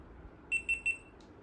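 Three short, bright electronic beeps from a GoPro camera sound in quick succession, followed by a faint click, in an otherwise quiet room.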